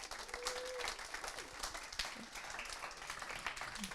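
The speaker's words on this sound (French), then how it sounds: "Vous pouvez faire du bruit, vous pouvez applaudir pour dire que vous êtes là." Students applauding at a communications school talk event, a steady, fairly distant crackle of many hands clapping from a large room, with a brief whistle-like tone early on.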